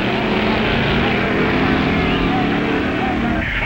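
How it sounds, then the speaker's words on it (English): An A Gasser hot rod drag car launches at a 1950s drag strip, its engine a loud, dense, sustained roar that fills the whole clip, with a voice narrating over it. "there goes his brother Phil and his A Gasser"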